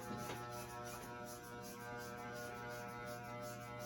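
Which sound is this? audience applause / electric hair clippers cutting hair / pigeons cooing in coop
electric hair clippers cutting hair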